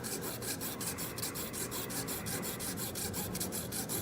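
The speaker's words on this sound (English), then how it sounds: "And so I use that to help guide the saw as I'm cutting." Hand saw cutting a wooden truss piece for a gambrel roof truss, with fast, regular back-and-forth rasping strokes, close and steady, and no voices.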